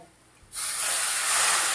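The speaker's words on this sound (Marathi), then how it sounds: "मध्यम गॅसवरती आपण थोडासा पाण्याचा शितोडा देऊया।" Water splashed into a hot pan of soaked gram curry on a medium gas flame, a sudden loud hiss of steam after a quiet moment that keeps spraying steadily to the end.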